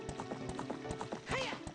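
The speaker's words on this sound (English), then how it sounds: "rode on a horse across a deserted field" Horse hooves clip-clop in a steady rhythm in the video game Ocarina of Time while riding across a deserted field, moderately loud with a brief whinny near the end.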